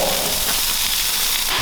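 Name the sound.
steaks sizzling on a hot grill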